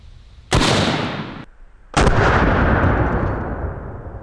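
Two powerful booming T-REX rifle shots with 325 grain Hornady Lever Evolution rounds, each a loud close blast followed by a long rumbling echo.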